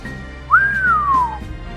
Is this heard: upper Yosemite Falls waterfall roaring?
no